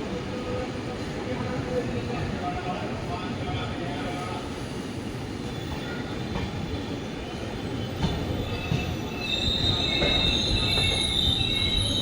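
Wheels of the Gandhidham–Nagercoil Express squeal and rumble as the train rolls into a platform, a loud continuous grinding roar with sharper high-pitched squeals building toward the end, under a voice talking.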